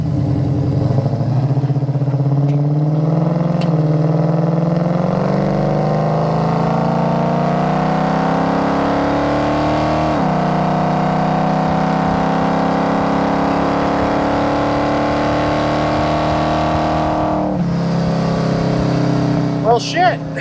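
A 1973 Dodge Challenger with a 383 V8 and automatic transmission accelerates under throttle, its loud, steady engine drone rising in pitch with shift breaks, continuous and close throughout.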